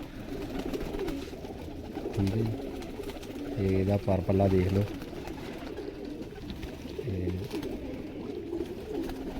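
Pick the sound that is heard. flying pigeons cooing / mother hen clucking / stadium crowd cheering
flying pigeons cooing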